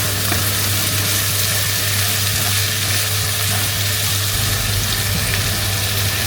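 Capsicum is sautéed with egg manchurian in a hot pan, giving a loud, steady sizzle with occasional stirring scrapes. The frying stays constant throughout and nobody speaks.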